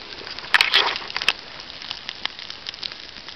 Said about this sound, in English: I'm going to put this birch log into the fire